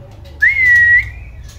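A male trotol bird gives a single clear, high whistled call, a sustained level note lasting about half a second that fades out softly, close by over a low background hum.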